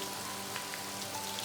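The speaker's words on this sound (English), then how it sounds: "The heavy rain smashing down" Heavy rain ambience for a tabletop role-playing scene, a soft continuous hiss of rainfall with no voices, quiet and even throughout.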